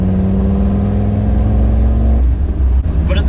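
A remapped diesel Land Rover Defender engine runs loud and close, a deep steady drone with strong low rumble that eases off near the end.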